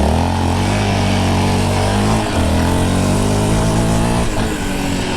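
A brand-new 2022 Yamaha Raptor 700R SE ATV, stock and freshly broken in, its engine droning loud and close, running steadily with a slight rise and dip in revs around the middle.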